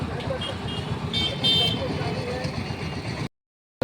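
A vehicle drives along a road in a rural Indian area heading toward a college town, its steady engine and road rumble close and continuous, with a horn toot and a voice talking over it before a sudden cut to silence.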